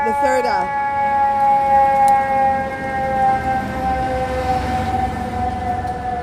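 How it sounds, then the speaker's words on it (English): Several fire engine sirens wail continuously along a Lower Manhattan street, steady rising and falling tones loud and close over busy city traffic noise, with faint voices in the background. "I like fire engines."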